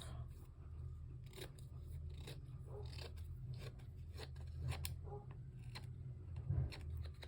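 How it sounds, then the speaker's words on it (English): Paper being snipped with scissors while trimming a Valentine-themed craft folder, a series of quiet, irregular cuts and clicks close by over a steady low hum. "Let me cut that off."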